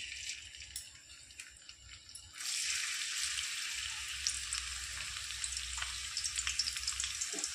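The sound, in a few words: frying chopped ginger and garlic in oil in a wok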